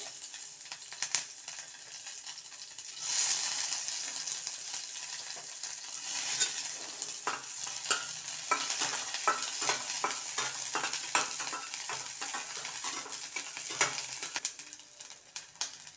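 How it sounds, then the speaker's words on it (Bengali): Onions sizzle steadily in hot oil while a utensil scrapes and clicks in a quick, uneven rhythm as they are stirred. "প্রথমে আমি পেঁয়াজটা একটু দিয়ে দেবো, পেঁয়াজটা একটু ভাজা ভাজা হয়ে নে"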